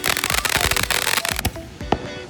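Fireworks going off outdoors, a rapid, dense string of loud crackling pops and sharp bangs that continues throughout and eases slightly toward the end.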